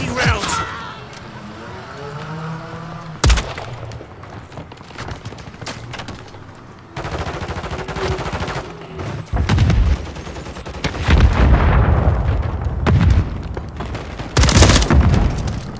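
Heavy multiplayer gunfire in Call of Duty: Modern Warfare 3, with bursts of automatic fire and sharp booming impacts that start and stop in clusters, loud and near. Brief voice chatter comes through between the shots.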